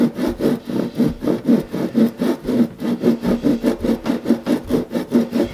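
A hand saw cuts through wood while building a bass guitar, quick even back-and-forth strokes, a loud rasping rhythm repeating steadily and close by.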